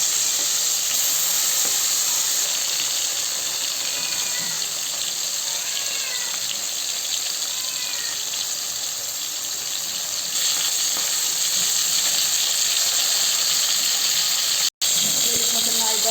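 Hilsa fish sizzles and hisses steadily in hot oil, a loud continuous frying crackle close by with faint squeaks over it.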